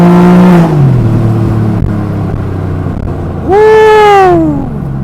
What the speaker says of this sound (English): she is fast, and you guys can hear that engine sound